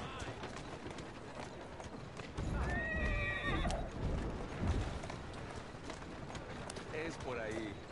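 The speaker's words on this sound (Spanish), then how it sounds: "Es un buen caballo." A horse in the Assassin's Creed Syndicate video game whinnies in a rising, wavering call amid the clatter of hooves, with another shorter neigh near the end, all fairly faint within a busy game mix.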